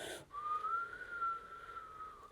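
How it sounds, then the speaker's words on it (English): A thin, steady whistling tone like wind, held at one pitch for about two seconds, fairly faint. "The wind picked up. It's whistling now."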